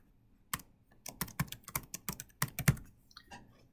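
Keystrokes on a computer keyboard while setting up a VEX In The Zone starter robot program, a run of crisp clicks in irregular bursts, close and fairly loud, with no talking.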